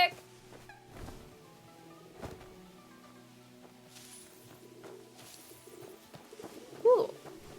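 Video game birds call from willows among grassy surroundings, a few soft coos and chirps over quiet ambient background, with a brief louder call near the end.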